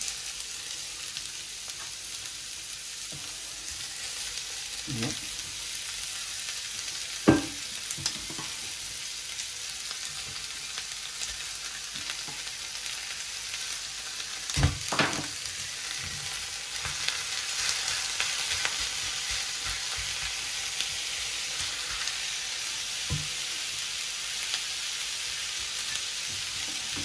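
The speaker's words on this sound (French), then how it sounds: "je vais mettre mes oignons au fond de mon plat tagine" Onions frying at the bottom of a tagine dish, a soft steady sizzle with a few sharp knocks of a utensil, quiet and close, and a brief spoken word.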